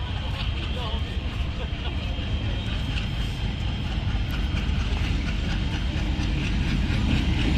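A train rolls in near the Kurigram Express route in northern Bangladesh, a steady loud broadband rumble that builds slightly toward the end, with voices talking over it.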